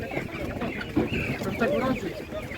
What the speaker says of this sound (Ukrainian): А це біла курка, це яка порода, це біла шуна?